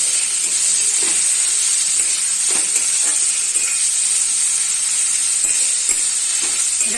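Onions fry in a pan with a loud, continuous hiss and crackle, with occasional soft stirring clicks and no voices.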